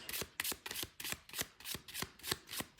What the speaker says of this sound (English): I'm just going to shuffle the deck for a second